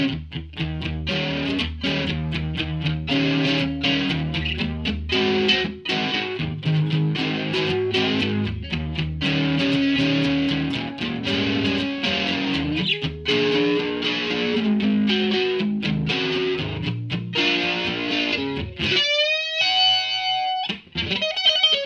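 Crunchy overdriven electric guitar, a Stagg SEL-P90BK through a Joyo British amp effect, strums chords in a steady rhythm, warm and loud, ending with a few bright scraping slides.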